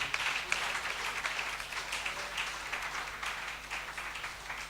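A church congregation applauds at a conference, a continuous wash of many hands clapping together, fairly distant and moderate in level for several seconds.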